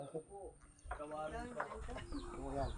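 Chickens cluck softly in the background while people talk nearby in a quiet outdoor setting.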